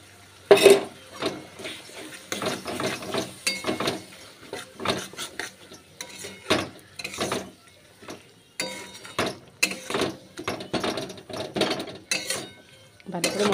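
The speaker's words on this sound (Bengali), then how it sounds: "ভালো করে মশলাটা কষিয়ে নিই" A metal spoon clinks and scrapes repeatedly against a pan as a spice paste of ground coriander and cumin is stirred and fried, in close, irregular bursts.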